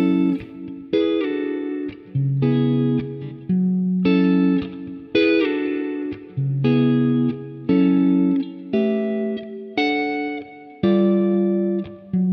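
Electric guitar plays the chorus chord changes, lightly effected, with about a dozen rhythmic chord stabs that each ring briefly before the next, heard up close with no talking.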